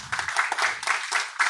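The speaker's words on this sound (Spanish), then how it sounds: "al cual le queremos dar un fuerte aplauso," An audience at a political leadership training meeting in Lima claps together, a dense patter of many hands with a few swelling pulses across the brief burst.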